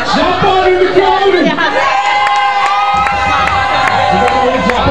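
People cheer at a church sports parade in Mary's Hill, and the crowd's loud, continuous cheering and whoops come with shouted voices and sharp bursts layered over it.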